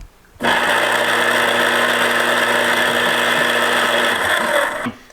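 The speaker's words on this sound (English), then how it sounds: "And that's when the can is spinning" A prop electric can opener from a movie house spins a can, starting with a click into a loud steady motor whir and grinding hum for about four seconds before cutting off.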